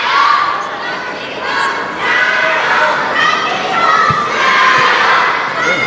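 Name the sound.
crowd chanting for table tennis player Zhang Jike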